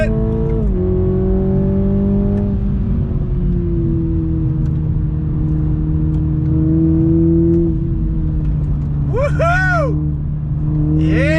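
A 2021 Toyota Supra 2.0 accelerates hard in second gear on throttle through a corner, its engine note droning loud and steady as it climbs, with brief tire or whistle-like chirps late in the run.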